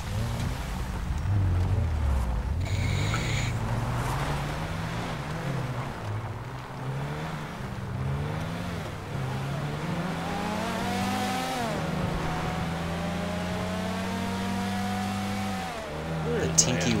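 A car engine drones steadily with rising and falling revs as it drives along in Grand Theft Auto 5 Online, loud and continuous under excited talk from players.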